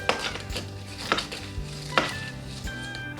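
Ice clinks sharply against a glass a few times as a Moscow Mule made with ginger-flavored soju is gently stirred, with soft music playing underneath.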